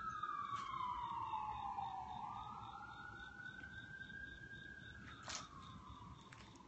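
A police car siren wails from a distance outside an abandoned hospital, its pitch sweeping down and then rising again in a steady, continuous tone with faint background noise.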